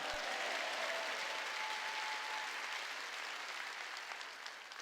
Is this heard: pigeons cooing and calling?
no